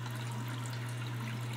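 A bathroom tap runs steadily as the water temperature is adjusted, giving a short, even hiss of flowing water over a low electrical hum.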